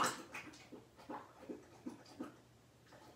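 A dog pants in quick, rhythmic breaths close by and whimpers faintly between them, at low volume with no talk.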